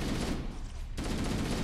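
Rapid gunfire crackles in Halo: Combat Evolved, a dense burst of shots that breaks off briefly and then resumes, loud and continuous with no voices.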